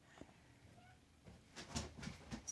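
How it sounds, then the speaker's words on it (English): A house cat meows at a closed room door, trying to get in, with a few short calls close by over a quiet indoor background. "Oh, cat's trying to come in the room."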